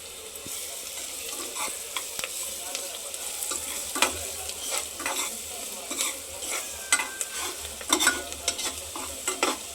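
Whole spices, black pepper and cloves, sizzling in hot oil in a pan while being stirred, with a constant frying hiss broken by frequent scraping stir strokes, close and moderately loud.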